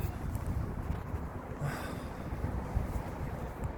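Wind blows outdoors, buffeting the microphone with a steady, dense rumble that fills the whole stretch without letup.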